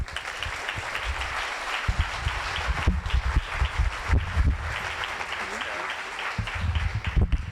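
Audience applause welcoming storyteller Anthony Bedard, founder of the Coalition for Aging Rockers, at a live storytelling event; steady, fairly loud clapping fills the whole stretch with a few louder swells and some talk underneath.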